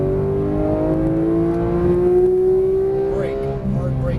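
A Porsche GT3 991 engine pulls hard on throttle at a racing track, its rising tone climbing steadily through a sustained acceleration, loud and close, with an instructor talking over it.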